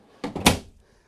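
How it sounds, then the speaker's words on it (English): A storage drawer on full-extension ball bearing glides in a Jayco Alante Class A 26X RV slides shut, a short rolling rumble ending in a firm knock, close and alone. "it's full frame extension ball bearing drawer glides. They come all the way out."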